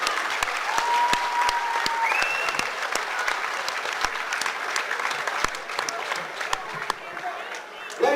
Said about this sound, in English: big round of applause to both fighters for an absolute war